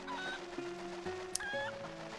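A chicken in The Legend of Zelda: Twilight Princess HD clucks in a few short tonal bursts over quiet game ambience, with a brief sharp click partway through.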